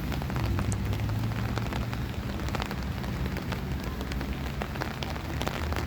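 Steady rain falling in a new park in Tashkent near Kosmonavtov metro, a dense continuous patter and hiss of drops on surfaces with scattered sharper splashes, no voices.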